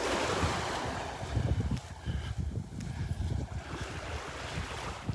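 Ocean surf at Delnor-Wiggins beach on a morning walk, a continuous roar of breaking waves with gusty wind buffeting the microphone throughout.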